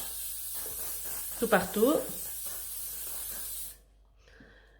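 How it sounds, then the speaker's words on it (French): Hair fixing spray hisses from an aerosol can onto curls set with clothes pegs, a steady spray lasting several seconds and cutting off abruptly, with a voice speaking briefly over it. "Donc mettre du spray fixant"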